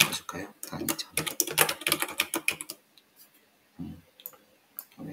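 Keyboard shortcuts tapped on a computer keyboard in the DART editor while building a table, with quick clustered key clicks at the start under a man's speech, then sparse isolated taps near the end.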